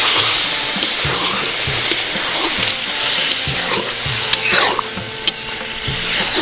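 Water goes into a loud, sizzling curry of eel-like kuche fish in a pan, a close, continuous hiss and bubbling churn with occasional sharp clinks of a utensil.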